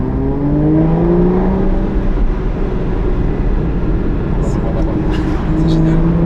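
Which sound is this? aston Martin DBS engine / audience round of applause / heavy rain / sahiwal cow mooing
aston Martin DBS engine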